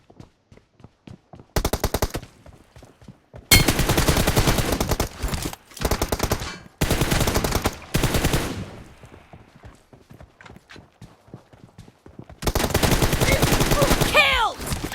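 Rapid automatic gunfire in PUBG Mobile: several long, dense bursts of close, loud shots broken by short pauses and scattered single footstep-like clicks.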